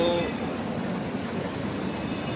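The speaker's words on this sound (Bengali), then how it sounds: "ও যে ট্রেন" A train passes at NJP railway station near Siliguri, a loud, steady rolling rumble of wheels and carriages that fills the scene evenly from start to finish.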